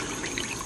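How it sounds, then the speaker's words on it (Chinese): Starch thickening slurry poured into a pan of seasoned green beans, a soft steady trickle of liquid running continuously for a brief moment, close and even. "把芡汁倒里面，搅拌搅拌"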